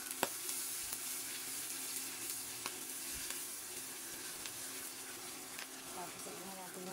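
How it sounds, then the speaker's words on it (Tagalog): A vinegar mix with bamboo shoots sizzles steadily in a pan, a soft continuous frying hiss with faint clinks of stirring, while a person talks quietly over it. "Lagyan na natin yung ating mix na vinegar"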